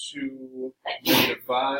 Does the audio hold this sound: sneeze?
yes